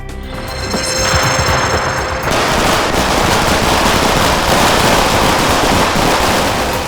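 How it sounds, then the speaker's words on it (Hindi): Diwali firecrackers going off in a dense, loud barrage of rapid crackling pops and bangs that runs for several seconds, with brief music at the start. "चलो पटाखे जलाते हैं।"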